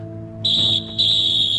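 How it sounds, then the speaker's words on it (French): A referee's whistle sounds in an anime football match: two sharp, shrill blasts with a brief break between, heard over a low background hum. "Le coup de sifflet vient de retentir."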